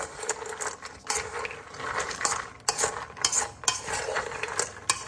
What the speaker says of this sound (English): Then we're just going to stir this up.